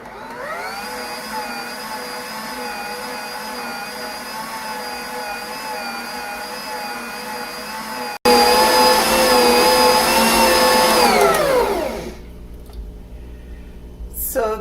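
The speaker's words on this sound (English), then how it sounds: "now I'm going to knead it in the mixer for about 3 more minutes" A stand mixer kneads Italian bread dough with a loud, steady motor whine that jumps louder partway through, holds, then winds down near the end, close to the microphone.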